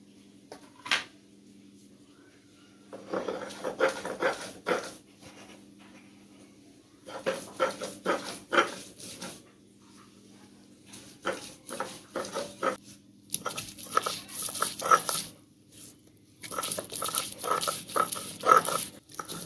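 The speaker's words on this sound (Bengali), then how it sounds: "এবারে নারকেল আর চিংড়ি মাছ একসঙ্গে আমি শিলে বেটে নেব" Coconut and prawns being ground together on a stone slab (shil): rhythmic scraping and grinding strokes in repeated bursts with short pauses between them, close and fairly loud.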